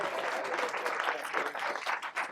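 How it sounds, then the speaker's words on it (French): An audience applauds Bruno Drewski, a geopolitics specialist, at an anti-imperialist internationalism round table, with steady dense clapping from a crowd close by that carries on without a break. "vous pouvez l'applaudir"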